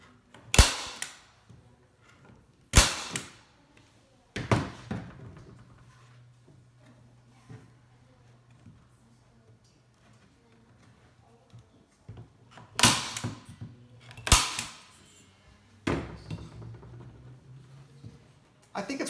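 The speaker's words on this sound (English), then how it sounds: "I'm going to staple. We're going to staple both sides. Just right here in the corner." A staple gun fires into stretched canvas at a frame corner, several sharp loud snaps spaced a few seconds apart with quiet handling noise between, close by.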